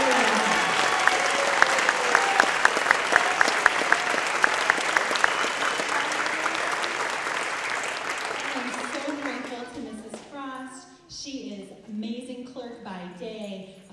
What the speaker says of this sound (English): Will you give them another round of applause?